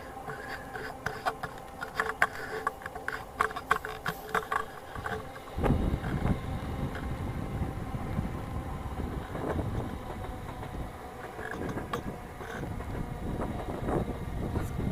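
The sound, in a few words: train going by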